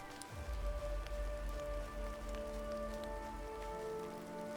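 Steady rainfall in the video game MirthWood, a soft continuous patter of drops under tonal game music with a low rumble starting early on.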